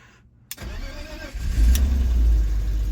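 A BMW E46 bought cheap from an impound auction cranks briefly after a click, then catches and settles into a loud, low, slightly uneven idle, close up.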